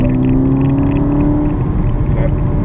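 A 2014 VW GTI Wolfsburg Edition engine accelerates, giving a steady, muffled low drone with a slowly rising tone as heard from inside the cabin, continuous and fairly loud throughout.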